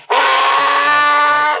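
A Tusken Raider scream blasts from a loud prop sound system: one sustained, harsh, rasping howl lasting over a second, very loud and close, with no other sound.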